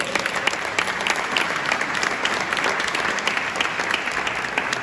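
Audience at a commemorative ceremony applauds steadily, a moderately loud wash of clapping from many hands with no pauses.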